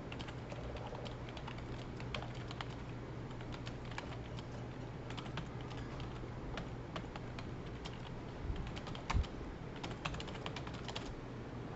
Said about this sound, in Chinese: 最近真的打字比较逊一点